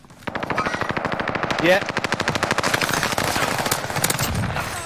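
Sustained rapid automatic gunfire in a video game, a dense close burst of shots running almost continuously, with a brief voice heard over it.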